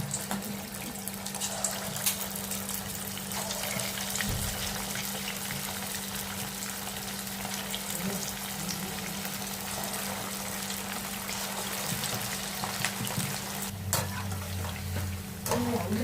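Chicken kebab pieces frying in hot oil, making a steady hissing, bubbling sizzle that continues evenly the whole time with faint background sounds and no clear speech.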